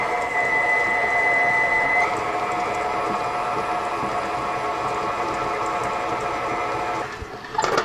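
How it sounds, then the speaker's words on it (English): A stand mixer with a paddle attachment creams butter and sugar in a bowl, a steady loud mechanical whir with tonal motor hum that shifts slightly partway through, ending in a brief clatter. "we are going to cream the butter and the sugar so it's nice and fluffy"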